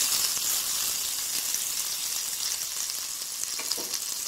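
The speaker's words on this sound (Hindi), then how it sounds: "अब मैं तड़के को इसमें ऐड करूंगी" Hot tempering with a pinch of asafoetida is poured into a bowl of bathua (lamb's quarters) yogurt raita, giving a loud, continuous bright sizzle and hiss that fades slightly as it settles.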